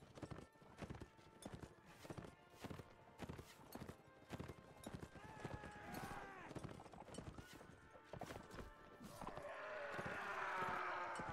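Horses of mounted archers gallop in the Mount and Blade Warband game, a rapid run of loud clip-clop hoofbeats with a whinny partway through, building to a denser clatter near the end.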